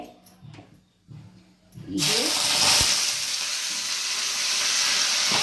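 Loud, steady sizzling bursts out as food hits hot oil in a kadhai and keeps hissing, after a few quiet moments of low voices and clatter.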